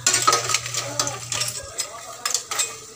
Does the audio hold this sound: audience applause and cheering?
no